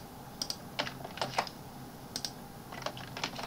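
Quick, uneven clicks of a computer keyboard being typed on, close and fairly soft, with short pauses between bursts and no voices.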